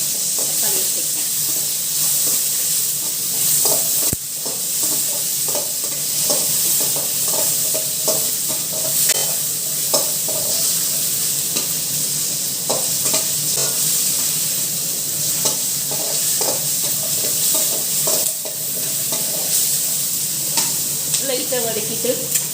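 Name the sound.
onion and tomato frying and being stirred in a pan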